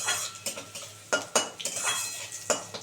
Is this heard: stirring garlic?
yes